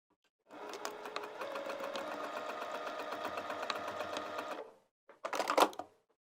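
A sewing machine stitches lounge pants in a steady, close mechanical whir lasting about four seconds, then stops briefly before a short second burst.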